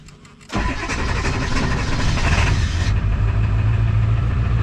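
A car engine on a cold morning in the 30s cranks briefly, then catches and settles into a steady, loud idle, heard alone without talk.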